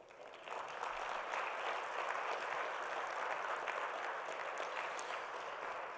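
An audience at the close of a research talk breaks into steady, sustained applause that starts abruptly and continues evenly, heard at a distance in a hall with no voices over it.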